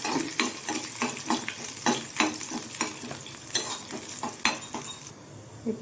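Garlic and dried red chillies crackle and sizzle in hot oil in a pan, with rhythmic scraping stirs and light metal clinks, close but fairly quiet, no voices.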